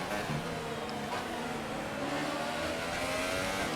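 Formula 2 car engine in the F1 2018 racing game, a continuous high revving whine with shifting pitch, loud and steady throughout, with a faint voice underneath.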